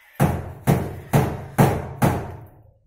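A rubber mallet taps an iron door into its frame, five loud, evenly paced blows about half a second apart, each thud ringing briefly with no talk.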